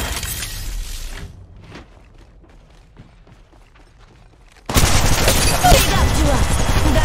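Gunfire in the mobile battle royale game Apex Legends Mobile, loud sustained bursts that open the clip, drop to quieter scattered shots, then return as a dense roaring volley.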